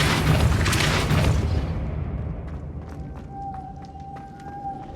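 A Depulso spell cast in Hogwarts Legacy lands as a loud, deep booming blast that fades over a couple of seconds, leaving a quieter ringing tone and scattered small clicks.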